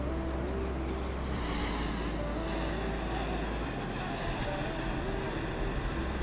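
Wind blows across a cliff top in Cornwall, a steady, close roar buffeting the microphone without a break.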